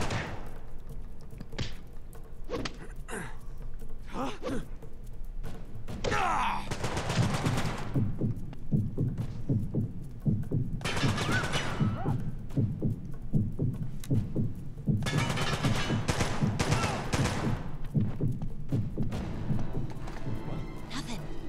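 Shotgun blasts and scattered gunfire from a firefight in the PlayStation Vita game Uncharted: Golden Abyss, loud repeated bursts layered with music and voices talking.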